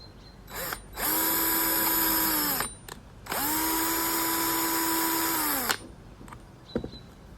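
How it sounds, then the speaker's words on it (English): A power drill whirs while drilling holes through a handmade book, in two sustained bursts, close and steady, with a short pause between, its motor pitch dropping as each run winds down. "We'll put the dot and let's drill the holes."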